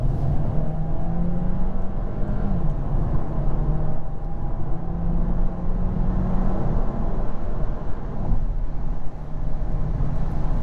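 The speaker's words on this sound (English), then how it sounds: "Go ahead and put it into sport. We're going to just accelerate" A 2022 Volkswagen Taos SEL 4Motion accelerates in sport mode, its engine drone rising steadily in pitch as heard from inside the cabin, continuous and fairly loud with no talking.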